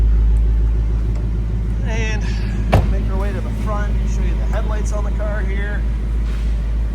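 A 2021 Ford Mustang GT Premium convertible with a 460 hp 5.0L V8 and active exhaust idles nearby, a steady deep rumbling burble running the whole time beneath a person talking.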